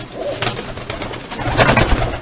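Shortface pigeons coo close by in a coop in soft, throaty, repeated calls over a faint background murmur.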